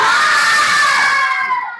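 A classroom of children shouts a loud, unified cheer together during an ice-breaking clapping chant, the voices close and bright, holding one sustained call before tailing off.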